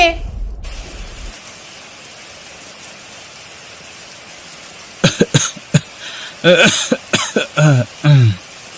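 A cartoon character coughs and clears its throat from a cold caught in the rain, several harsh close bursts after a quiet stretch with faint rain-like hiss.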